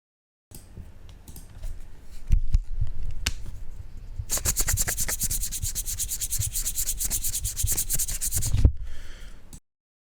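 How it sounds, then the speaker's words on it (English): Two Japanese-printed Flesh and Blood trading cards are rubbed together close to the mic. A few short scrapes lead into a long, steady, dense rasping rub that then stops abruptly. "we rub 2 Japanese cards together"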